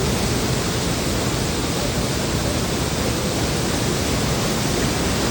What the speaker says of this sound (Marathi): असं पाणी वाहत चाललं ना